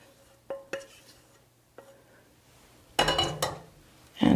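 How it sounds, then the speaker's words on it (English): A cake pan being cleaned out in a home kitchen: a few sparse clinks and taps of a utensil against metal, then a louder burst of scraping and rattling near the end. "let me clean my pan out"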